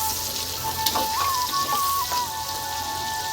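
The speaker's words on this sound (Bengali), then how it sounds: "তো মাঝে মধ্যে বেগুনটি হালকা করে নেড়েও নিতে হবে, তো বেগুনটি মানে দুপাশটি ভালোভাবে ভাজা হবে।" Eggplant pieces fry in a pan, giving a steady soft sizzle and crackle heard at moderate volume with no talking, while a thin high tone rises and falls faintly in the background.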